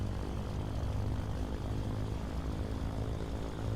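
A twin piston-engine Cessna 414 runs up in a flight simulator, a steady, dense propeller drone holding at an even level throughout with no talk over it.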